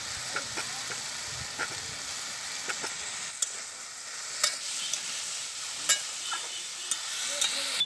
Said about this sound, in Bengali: এবার এর মধ্যে দিয়ে দেব কেটে রাখা পেঁয়াজ।